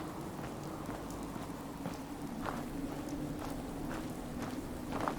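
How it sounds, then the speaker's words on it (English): Steady rain in the Fallout 4 wasteland at night, a dense continuous hiss with scattered heavier drops or patters throughout, moderately loud with no talking. "it's just rainy and dark anyway."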